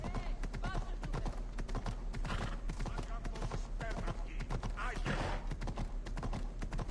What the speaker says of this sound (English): My horse took the long way.